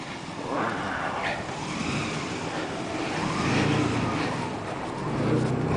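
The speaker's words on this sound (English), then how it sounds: "With this truck coming in, you can kind of see how high the banks are" A truck driving in through deep snow between high snowbanks during a storm, a steady low rumble that swells and fades slightly, fairly close, with no talk.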